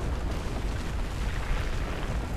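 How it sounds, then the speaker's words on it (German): Dense, continuous rumbling explosion noise from Battlefield 4 combat, loud and broadband with a sustained low-end roar and no talk over it. "Ich habe nur zwei Explosionen gezählt."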